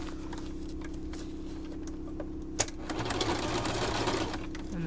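A sewing machine runs at a steady, close whirring pace, stitching a zigzag seam through fabric and vinyl for a baby changing mat, with a brief clack partway through.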